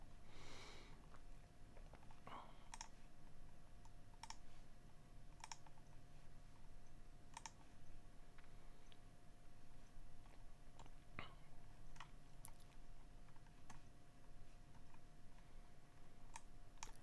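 A computer mouse clicks through trading charts, with sparse, sharp, quiet clicks at irregular intervals over a faint electronic hum and low room noise.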